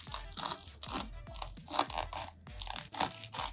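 A knife saws through a crusty homemade sourdough bagel, giving a quick series of crisp, close crunches and tearing scrapes with no talking.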